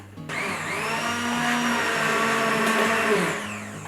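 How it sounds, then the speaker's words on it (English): An immersion blender purees hot soup, fully submerged in the pot, with a steady loud whirring motor whine that starts abruptly, holds for about three seconds and then tapers off, with no talking. "take our immersion blender. You gotta be really careful with this when it's hot. I'm gonna make sure this is fully submerged. And just gonna puree it all up."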